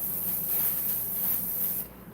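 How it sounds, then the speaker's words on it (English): A steady, soft hiss of spray mist is spritzed onto embroidery fleece at close range, lasting a couple of seconds before cutting off abruptly. "Just put just a little spritz of that on there, just a little bit."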